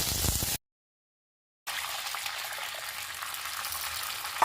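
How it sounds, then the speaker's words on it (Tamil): Steady crackling sizzle of mustard seeds and split lentils tempering in hot oil, cut by a second of dead silence before the spattering resumes and continues evenly. "கடுகு உளுந்த பருப்பு தாளிச்சுருங்க."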